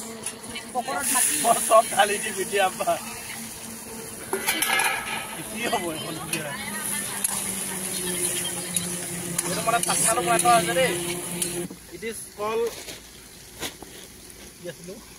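Onions frying in a pan, a continuous hiss and sizzle with clinks of utensils against the pan, while people talk over it for most of the time.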